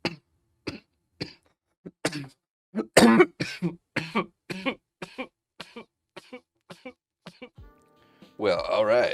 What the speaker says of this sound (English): After that huge coughing fit,